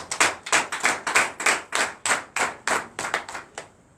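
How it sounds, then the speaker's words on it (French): A church congregation claps together at a night deliverance and prophecy service, producing a lively, rhythmic burst of applause that fades out near the end, with no speech over it. "Donnez l'acclamation à Jésus."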